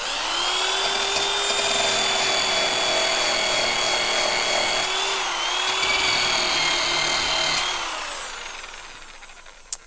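A Porter-Cable power sander runs on an old, aged surface with a steady high whine and buzz that dips briefly midway, then winds down and stops near the end, with no voices.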